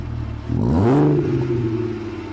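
A BMW E46 M3 straight-six engine revs once, its pitch sweeping up sharply then holding at a high steady drone before easing off, loud and close with no talk.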